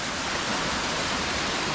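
Ramsey Cascades waterfall on a rocky, snowy trail roars up close as a loud, unbroken broadband rush of falling water, with no voices.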